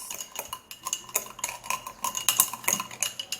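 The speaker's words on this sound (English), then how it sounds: "when you put turmeric and then you stir it" A spoon stirs turmeric into a drink, giving quick repeated clinks and scrapes against the cup in an irregular rhythm, close and fairly quiet, with no talk.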